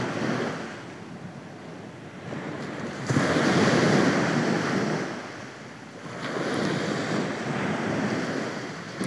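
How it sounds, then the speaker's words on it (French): Ocean waves break on the shore with slow, rolling swells of surf that rise and fall in loudness, mixed with some wind and no voices. "c'est-à-dire juste le bruit des vagues."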